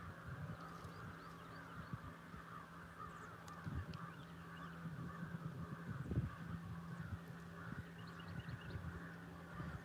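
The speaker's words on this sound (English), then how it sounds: "you can hear the birds. I got crows to the left of me." Crows caw repeatedly from a backyard garden at a moderate distance, with a steady low hum and other birds faintly in the background on a quiet morning.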